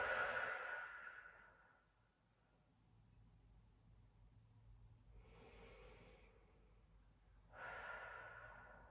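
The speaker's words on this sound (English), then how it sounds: "So breathe in, fill that body up with air, breathe out." Slow deep breaths drawn in and let out during a floor-mat exercise session, soft airy rushes at the start, in the middle and at the end, separated by quiet pauses.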